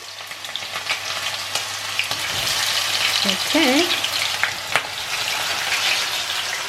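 Potatoes and onions sizzle and crackle steadily in hot oil in a pan for a Spanish tortilla, a dense close frying hiss throughout with a brief spoken word over it.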